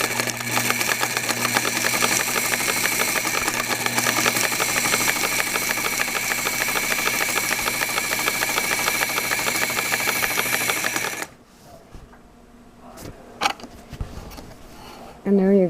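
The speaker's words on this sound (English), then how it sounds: "flower shapes with simply not using a flower foot and only using a zigzag machine" A zigzag sewing machine stitches flower shapes on a newspaper quilt, running as a loud, steady mechanical whir with rapid needle clatter for about eleven seconds, then stopping abruptly and leaving quiet handling noises.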